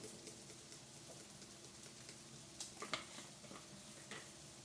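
Fried rice with broccoli and garlic sizzling and stir-frying in a pan, a steady close hiss with a few louder scraping stirs, no talk.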